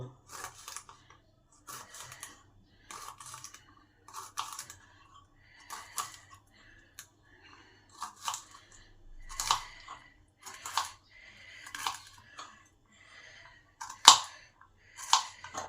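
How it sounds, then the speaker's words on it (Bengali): Green beans being chopped into small pieces with a knife on a board, a series of crisp, close cuts in short irregular bursts with brief pauses between them, no one talking. "সব বিনসগুলোকে কেটে ছোট ছোট টুকরো করে নেব"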